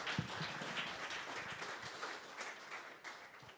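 A conference audience at a financial-services data and AI event claps for a speaker, a fairly quiet, thin patter of hands with a few sharper individual claps, heard from a distance.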